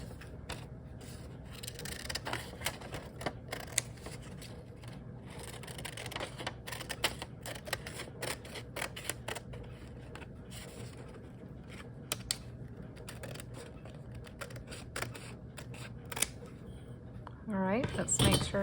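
Scissors snip off the folded paper edge of a page while a junk journal is made from a Little Golden Book, giving quiet, close clicks and paper rustles in an irregular rhythm, with a louder rustle at the end.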